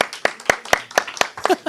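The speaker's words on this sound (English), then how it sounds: "Let's give Nancy another round of applause" A small audience claps for Nancy, a short burst of distinct, separate hand claps from a few people nearby, sparse and uneven, fading into a brief voice at the end.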